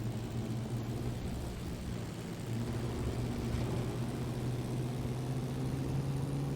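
A 1924 Bugatti T35 race car's engine drones in Assetto Corsa, a steady, close, buzzing mechanical hum with a strong low harmonic stack held nearly constant throughout a racing lap, no voices.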